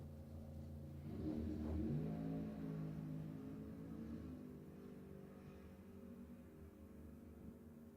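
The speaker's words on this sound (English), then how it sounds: "That's one of those Hughes Performance top dragsters right there." A Hughes Performance top dragster at a drag racing event, its engine roar swelling at a distance for a couple of seconds before settling into a fainter, steady rumble.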